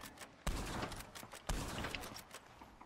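Gunfire in the video game Red Dead Redemption: two punchy shots about a second apart, set in dense, busy game sound.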